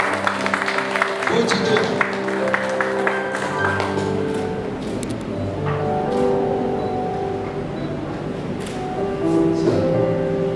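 Wedding congregation applauding at a church holy matrimony ceremony, a steady, moderately loud patter of many hands clapping throughout, with someone speaking briefly over it and music underneath.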